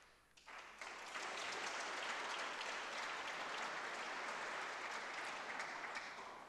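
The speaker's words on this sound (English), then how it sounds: "Well, that's two rounds of applause before you start, Neil." Lecture audience applauding a visiting law professor, the clapping rising quickly after a brief quiet start into a sustained, even wash of many hands, heard from a distance in a large hall.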